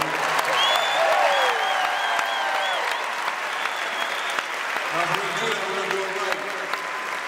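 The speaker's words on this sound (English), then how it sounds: "give a round of applause" Crowd at an Ohio State football team celebration applauds, with loud, rolling clapping mixed with whoops, whistles and scattered voices, easing slightly midway then continuing steadily.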